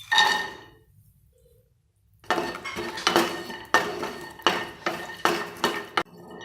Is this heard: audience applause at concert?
no